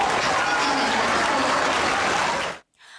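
A graduation ceremony audience applauding, dense continuous clapping from a large crowd at full volume that cuts off abruptly near the end, leaving faint room noise.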